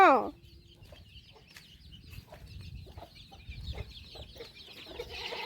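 A hen clucks softly in short, scattered bursts close by, with low background noise and a brief higher chirp at the very start; the hen is sitting on duck eggs.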